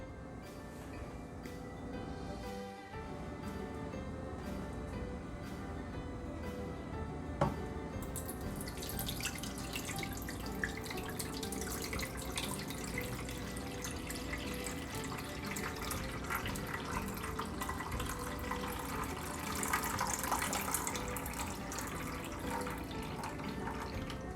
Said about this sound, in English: Now you just want to fill the water up to halfway of the pan.